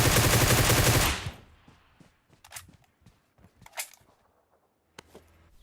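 An M249 light machine gun fires in the PUBG Mobile video game, starting as a loud, sustained burst that cuts off after about a second. A few scattered, fainter shots and clicks follow over a quiet background.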